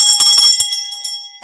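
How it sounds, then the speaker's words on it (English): Bells ring out loud and bright in a quick run of strikes, their steady tones sustaining and slowly fading over the final second. "Ring those bells."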